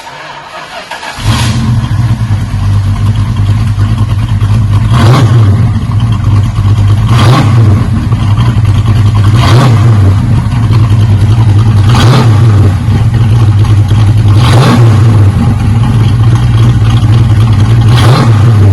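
A 1968 Barracuda V8 fitted with Walker Dynamax Turbo mufflers idles with a deep, loud rumble close by, punctuated by about seven evenly spaced revs that rise and fall in a steady rhythm.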